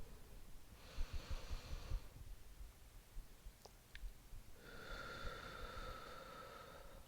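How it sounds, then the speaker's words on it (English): Slow deep breathing during a foam roller back and glutes workout, a long inhale followed by a pause and a long audible exhale, close and fairly quiet. "We'll hold at the top of that inhale and we'll exhale through the mouth."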